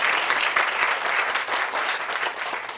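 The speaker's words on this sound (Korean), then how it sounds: "여러분들 우리 박수." A church congregation claps together during a Sunday service, a dense, even burst of applause filling the room for a few seconds without pause.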